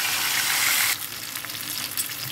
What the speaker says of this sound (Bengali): তো আমার মাছের এই পিঠ ওই পিঠ 2 পিঠে ভাজা হয়ে গিয়েছে